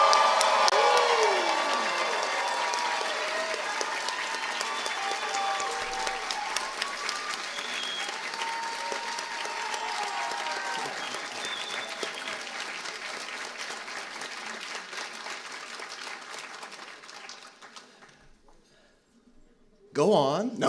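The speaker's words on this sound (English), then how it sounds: "can we see how loud we can make it and show our thanks?" Loud, sustained applause from an audience at a university inauguration ceremony, dense and steady with some cheering, slowly tapering off near the end before a brief burst of sound.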